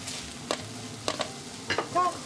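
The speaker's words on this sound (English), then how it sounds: "And back your tofu and onion into the pan." Tofu and onion stirred in a frying pan for a vegan Japanese curry, giving a soft steady sizzle with a few sharp scraping stirs spaced through the moment, close by, no voices.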